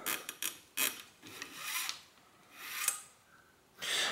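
A bicycle shift cable slides through its cable housing while a vintage 10-speed road bike is upgraded to indexed shifting, making faint, short scraping rasps in an irregular series.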